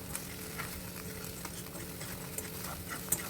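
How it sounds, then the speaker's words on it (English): Beaten eggs being stirred and gently scrambled with a fork in a pan over a low flame for spicy Indian anda bhurji, giving a steady soft sizzle with faint scraping taps throughout. "Now add the beaten eggs and stir continuously, gently scrambling the mixture as it cooks."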